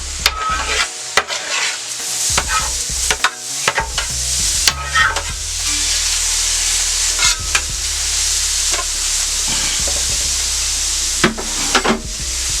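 Shrimp sizzle on a Steelmade hibachi-style flat-top grill at home, a loud continuous hiss of frying broken by frequent spatula clacks and scrapes against the steel as they are stirred.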